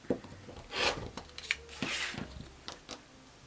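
Fabric quilt block being trimmed with a square trimmer ruler and rotary cutter, giving a few short scraping and rubbing strokes close by, soft and quiet, with no talking.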